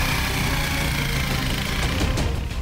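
Loud, steady running of an engine, heard close up as a continuous rumble with a rough, knocking texture and no pauses, on a bad road near the Arabian Sea coast.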